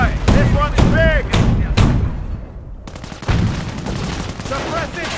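Gunfire from the World War II strategy game Company of Heroes: rapid, loud bursts and sharp cracks of rifle and machine-gun fire, with soldiers' shouted voice lines over the shooting.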